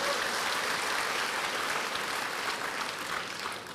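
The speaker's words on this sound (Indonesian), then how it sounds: "Berikan tepuk tangan buat Tuhan." A church congregation applauds during a sermon, a dense, steady wash of clapping that holds throughout and eases slightly at the end.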